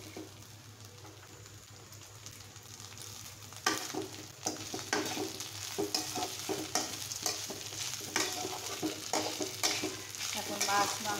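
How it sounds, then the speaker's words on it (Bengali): Fish and goat meat frying in a pan, a soft steady sizzle that grows louder partway through as stirring begins, with repeated scraping strokes close by. "এখন মাংসটাকেও আমি মাছের সাথে সুন্দর করে জোড়া জোড়া করে ভেজে নেব।"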